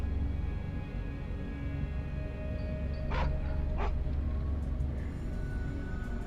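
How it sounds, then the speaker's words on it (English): Two sharp dog barks ring out about a second apart in a stealth video game, loud and distinct over a steady low hum and faint background tones. "High quality dog sound effects."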